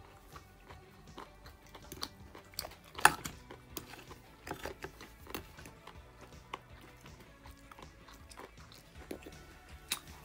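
Crispy, crunchy cheesy bread pizza being chewed up close, with irregular bites and crunches throughout and one sharper, louder crunch early on, over a quiet background.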